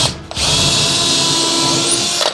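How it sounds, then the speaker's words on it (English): A power drill pre-drills a hole into a wooden wall stud, one continuous loud whirring run lasting about two seconds, close up and alone. "Always pre-drill a hole"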